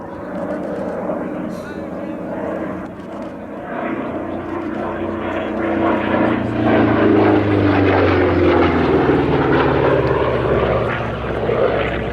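A heavy World War II single-seat P-47 Thunderbolt propeller fighter flies at an air display, its loud, close engine drone holding steady and then swelling as it passes.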